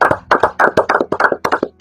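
A small group at a podcast recording gives a short burst of hand clapping, a quick run of sharp, close claps in an uneven rhythm that ends within a couple of seconds.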